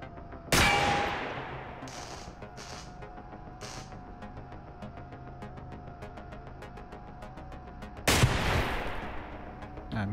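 Gunshots in Receiver 2 aimed at a security camera: one sharp, loud report near the start and another near the end, with a few faint clanks and a steady hum in between.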